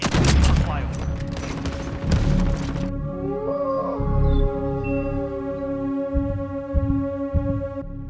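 Rapid burst of gunfire from the Call of Duty: Modern Warfare video game, loud cracks at the start giving way to sustained tonal game audio with scattered impacts and a faint voice underneath.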